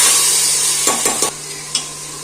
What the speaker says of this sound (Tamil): இதை போட்டு ஒரு 2 நிமிஷம் வதக்கி விட்டு மூடி விட்டுருங்க